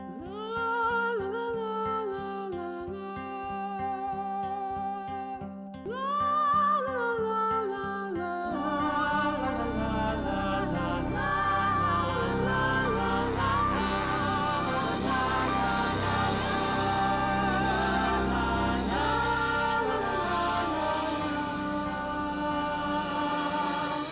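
Excerpt from the Hadestown musical, an unfinished form of the la la la melody: a sung line over a plucked accompaniment, then a fuller band enters near the midpoint and carries on steadily to the end.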